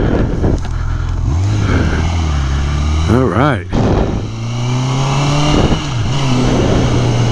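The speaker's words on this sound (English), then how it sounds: "these Honda engines are smooth right out of the box" Honda motorcycle engine accelerating on a wet, rainy road, loud and close, its pitch rising and falling through gear changes under steady wind and road roar, with a brief spoken remark.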